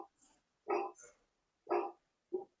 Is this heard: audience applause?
no